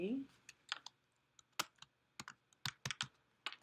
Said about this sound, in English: I can click on it and just start typing.